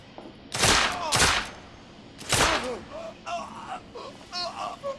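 Gunfire in The Order 1886 shooter game, three loud broadband shot blasts in quick succession, followed by voices talking over quieter game sounds.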